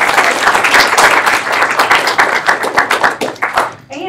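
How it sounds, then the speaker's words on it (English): An audience at a student government live stream meeting breaks into a loud round of applause, dense clapping for about four seconds before it fades out. "So round of applause for her."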